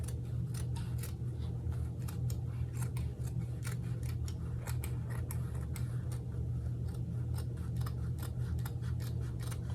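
Scissors cutting fabric for a wallet along a marked line, a steady run of sharp clicking snips repeating rapidly for several seconds over a low background hum, close and alone.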